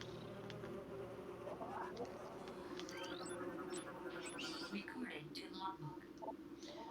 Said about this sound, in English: War Wasp, airborne insect equipped with a venomous stinger capable of sharing steel.